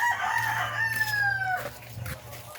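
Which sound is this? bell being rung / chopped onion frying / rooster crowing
rooster crowing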